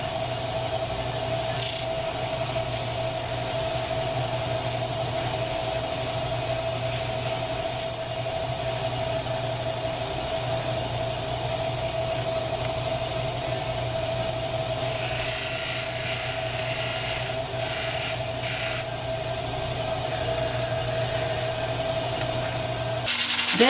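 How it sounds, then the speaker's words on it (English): Pneumatic drum sander shaping scroll-saw-cut wood pieces gives a steady, continuous whirring hum with a constant tone, close and alone, running unbroken for the whole stretch before cutting off at the end. "Next, I shaped all the scroll saw pieces using the pneumatic drum sander."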